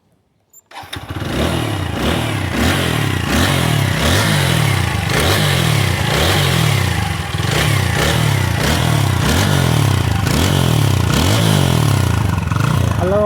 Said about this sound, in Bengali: গাড়ির ইঞ্জিনের সাউন্ড কন্ডিশনটা আমরা একটু